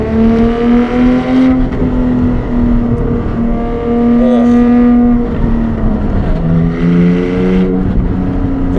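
Porsche 718 GTS 4.0 with its flat-six engine heard while driving, a steady close engine drone with harmonic tones that rise and dip as the gearbox shifts and automatically blips the revs.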